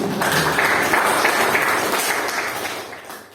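A class applauds in an electronics engineering teaching session, giving a short burst of clapping that starts loud and gradually fades over about three seconds.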